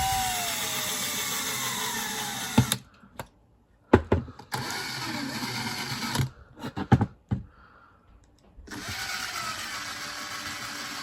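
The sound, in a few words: power drill cutting a hole in a brick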